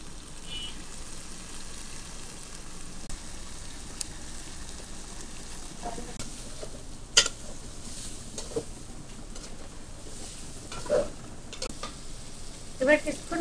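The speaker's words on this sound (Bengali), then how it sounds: "গোসটা ভালোভাবে কষাই নেব।" Meat being stir-fried in a pan in a village kitchen, a steady low sizzle throughout with occasional sharp scrapes and clinks of a spatula, close and moderately loud, no talking.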